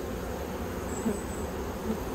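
Honey bees buzz steadily on a hive frame during a mite-treatment inspection, a close, continuous drone with no talk over it.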